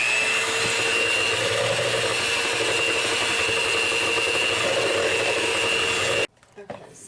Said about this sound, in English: With my mixer.